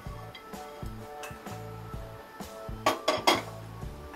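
Roasted coconut scraped out of a pan, a few scraping and metallic clinks of a utensil against the pan, with a brighter cluster of clatters near the end, steady background music underneath.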